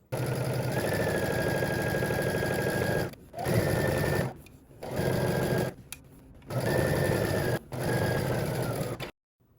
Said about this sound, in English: Now you're going to head to the sewing machine and we're going to stitch